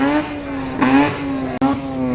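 A V12 car engine revving hard toward a 9,000 RPM redline at a JDM drifting event at Oulton Park, with three loud rising revs close by, each cut off sharply before the next.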